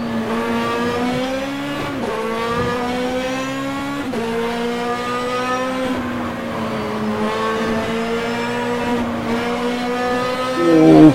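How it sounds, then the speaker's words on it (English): Ferrari race car in the Automobilista racing sim, its engine note loud and continuous, rising in pitch through each gear and dropping sharply at shifts about every two seconds, alone with no talk. "It's been a while since I've driven this Ferrari."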